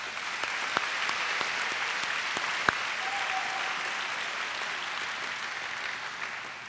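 An audience applauds a Youth Legislature delegation at an upper school awards ceremony, a steady, dense wash of clapping from a large crowd that holds evenly for several seconds and tapers slightly at the end.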